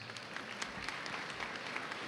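Audience applause at a school district employee back-to-school convocation, a steady wash of many hands clapping at moderate distance, continuous for about two seconds with no voices on top.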